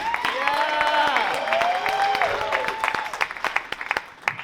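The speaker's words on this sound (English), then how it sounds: "Round of applause for this next guy," An audience applauds as the next comedian takes the stage at a college comedy club showcase, steady clapping with a sung or spoken voice over it, thinning into scattered individual claps near the end.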